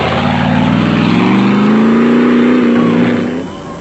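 An off-road race car, a Motortech Jimco at the 1997 Toyota 1000 desert race, drives with a loud, sustained engine roar that rises in pitch as it accelerates and then tapers slightly at the end, with no voices.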